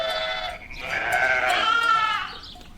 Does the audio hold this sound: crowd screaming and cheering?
no